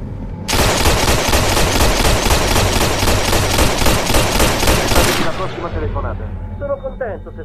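Sustained rapid machine-gun fire in a film shootout, loud and close, a dense burst of shots for about five seconds before cutting off into fainter clatter and echo.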